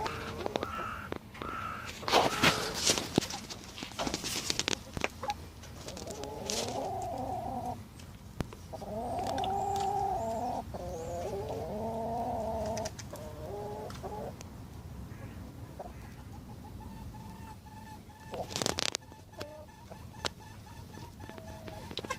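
Hens on an allotment in November cluck and croon in repeated bursts, fairly close, with occasional sharper squawks over a quiet outdoor background.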